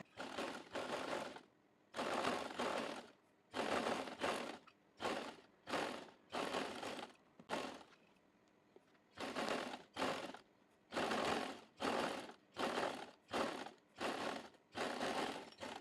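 A sewing machine stitches lace onto a trouser hem in a series of rhythmic runs of rapid mechanical clatter separated by short pauses, close but fairly quiet, with no speech.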